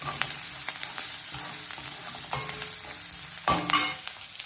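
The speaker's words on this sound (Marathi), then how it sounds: "कांदा चांगला भाजून घालते." Onion with a little turmeric fries in a pan for a green chickpea curry, a continuous close crackling sizzle broken by scattered spoon clicks and a louder scrape near the end.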